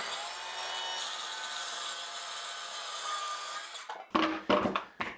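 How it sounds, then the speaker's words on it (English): A power saw, likely a jigsaw, cuts a wooden board guided by a framing square clamped tight against it, whining steadily and close for about four seconds before stopping, followed by several sharp knocks and clatters. "helps your saw make a nice straight cut"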